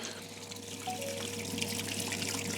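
Wort trickles steadily through a filter while brewing a strong British ale, a continuous close watery flow with a faint tonal hum underneath.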